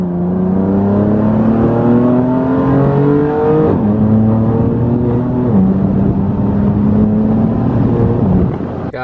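A BMW M3 fitted with an Active Autowerke single mid pipe exhaust revs hard, heard from inside with the windows cracked, a loud continuous engine note climbing in pitch and dropping at each upshift.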